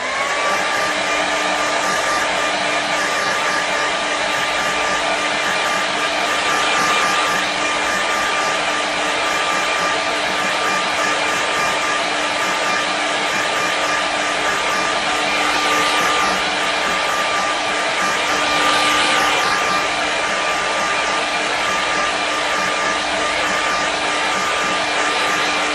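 A hair dryer blows steadily on a watercolour painting of the sea and cliffs, a constant close whooshing roar with a faint whine that holds for the whole stretch with no talking.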